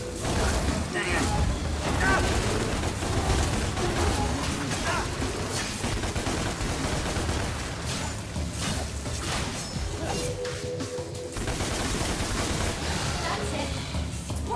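Gunfire from the action video game Devil May Cry, a dense run of shots and crashing impacts packed under busy game music and effects, loud and continuous for the whole stretch with a player talking over it.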